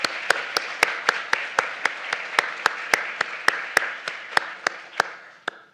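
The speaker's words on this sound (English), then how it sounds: "join me for a moment in an appreciative round of applause for all that work" Audience applause at a botanic garden lecture, a steady wash of clapping punctuated by regular loud, sharp claps from one person close by, carrying on evenly before fading at the end.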